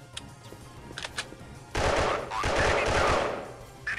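Gunfire in the mobile shooter game Special Soldier: a few short, sparse shots, then two loud sustained bursts of rapid automatic fire, close and dominant.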